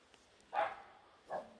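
A dog barks twice at a distance, two short faint woofs spaced under a second apart in an otherwise quiet rural setting.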